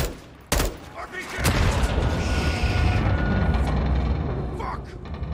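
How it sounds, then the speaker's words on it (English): An RPG rocket blast in the video game Modern Warfare 2: a sharp crack followed by a heavy explosion that rolls on as a loud, sustained rumble, with gunfire crackling in the busy battle mix. "RPG!"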